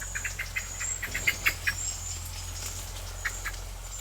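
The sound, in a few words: birds calling outdoors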